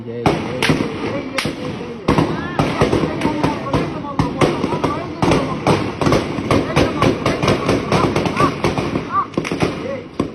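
Gunshots during a street protest over the quota system, a rapid run of sharp loud cracks and bangs, some in quick bursts, over agitated shouting voices and crowd noise throughout.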